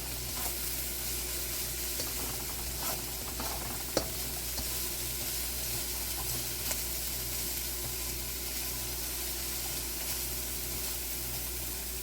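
Minced garlic sizzles steadily in a hot wok, a dense, even frying crackle that stays level throughout with a few faint clinks, and no voices.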